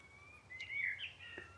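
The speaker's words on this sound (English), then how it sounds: "Oh, can you hear that blackbird in the background?" A blackbird sings in a cherry tree in an English garden in June, heard as a faint distant warbling phrase over quiet outdoor background.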